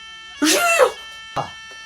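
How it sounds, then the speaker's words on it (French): A fire alarm in a school classroom rings as a steady, shrill electronic tone, partly covered by two short bursts of loud voices. "Ah, l'alarme incendie."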